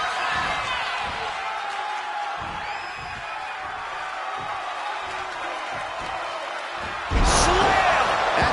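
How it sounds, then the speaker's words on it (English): A wrestling slam in the WWE 2K25 game, a heavy body impact booming over continuous crowd noise and commentary, with a louder burst of crowd reaction near the end. "Slam! That just reverberated throughout the entire building."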